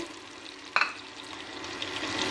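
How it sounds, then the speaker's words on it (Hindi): Pineapple fries with semolina in a pan, giving a steady close sizzle broken by one sharp clatter of a utensil early on, then continuing frying noise without talk. "सूजी के साथ इसको भूनेंगे, डाल देंगे इसमें अपना पाइनएप्पल"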